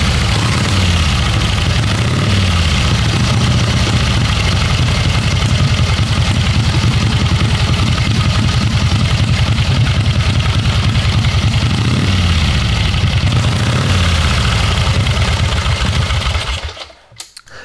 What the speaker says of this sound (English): 1916 Harley Davidson J model. It's 61 inches, and ready to go.